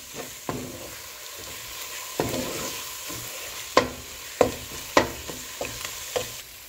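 A spoon stirring eggplant bharta with chopped coriander in a pan, giving a series of scraping strokes and sharp knocks against the pan over a soft sizzle.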